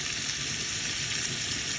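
Bacon, smoked sausage, andouille and smoked pork hocks sizzle in a pot for jambalaya, a constant close hiss of frying fat with no talking over it.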